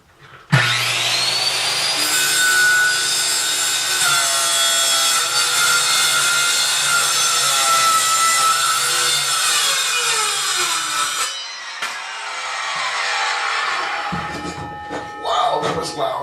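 A circular skill saw bites into an oak floor inside a small closet, a loud, steady whining cut that runs for about eleven seconds before the pitch shifts and the blade winds down with some rattling.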